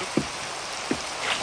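Steady rain patters across the whole clip, with a couple of brief louder knocks breaking through, at the riverside near Oxford.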